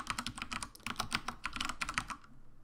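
Rapid, close keystrokes on a computer keyboard sound as quick irregular clicks in short bursts, trailing off into quiet at the end.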